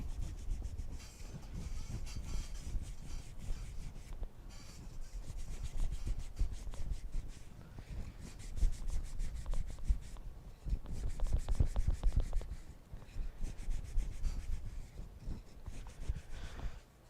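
Abrasive Scotch-Brite pad scrubbing a part for a Gonk droid build, a steady close rasping rub that keeps up in uneven strokes for the whole stretch, with brief pauses and no talk.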